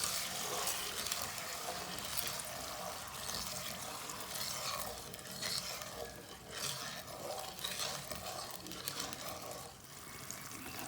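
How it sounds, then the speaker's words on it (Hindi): Sugar syrup made with water and oil bubbles and sizzles in a pan while being stirred, a steady close hiss with scraping stirs for several seconds and no voices. "इसकी हम चाशनी तैयार कर लेंगे।"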